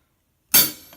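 A single crisp hi-hat cymbal hit on a drum kit, a bright metallic splash that starts after a short silence and rings down over half a second, close and clear.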